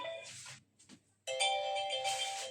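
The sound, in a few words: phone ringing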